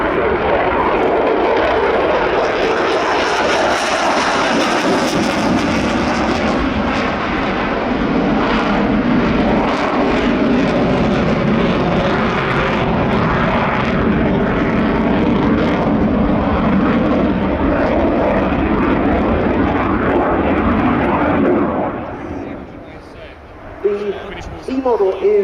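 A Saab Gripen E fighter jet at the RIAT air show roars past loudly for about twenty seconds, then drops away sharply, while a commentator speaks over the noise.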